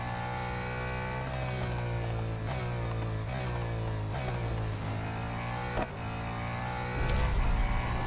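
Race car engine in Real Racing 3, a steady, loud drone whose pitch rises and falls through gear changes, with a brief surge near the end and no talking.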